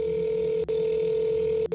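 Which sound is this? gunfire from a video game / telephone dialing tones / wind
telephone dialing tones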